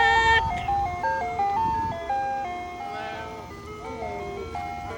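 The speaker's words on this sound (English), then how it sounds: "Ice cream truck is coming." Close and steady, a neighborhood ice cream truck repeats its bright electronic melody over the low hum of its engine.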